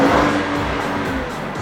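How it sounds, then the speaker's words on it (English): BMW 535i driven hard on a racetrack, its engine giving a steady loud drone with road and tire roar throughout, no voices. "we are in a BMW 535i on the racetrack."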